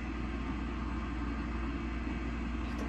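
A car in a Roblox game drives at speed, a steady low engine rumble droning continuously without change.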